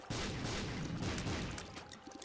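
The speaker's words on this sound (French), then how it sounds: "J'ai pris un retour d'explosion." A blast explosion striking the player character in The Binding of Isaac, a loud booming burst with crackling decay that fills the moment alone, no talk over it.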